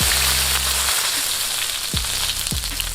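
Mustard seeds and two dried red chillies fry in oil in a kadai, a loud steady sizzle close by with a few sharp clinks and a low hum at the start, and no voices.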